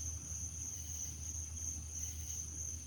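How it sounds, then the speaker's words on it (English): Crickets and frogs chirp at night in a steady, unbroken chorus, with a high insect trill running throughout at a moderate, even level and no voices. "Yeah, man, these crickets and frogs is horrible."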